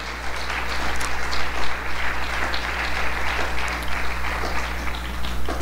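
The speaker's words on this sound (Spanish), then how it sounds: "Dele un aplauso en esta mañana al Señor." Congregation applauding during a Spanish-language church service, a steady wash of many hands clapping at moderate loudness with a low hum underneath, no talking over it.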